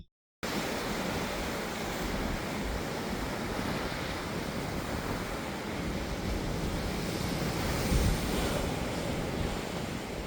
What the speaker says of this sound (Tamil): இது ரொம்பவும் ஆழமான கடல் இந்த பக்கம் எப்போதுமே அல கொஞ்சம் ஸ்பீடாக தான் இருக்கும்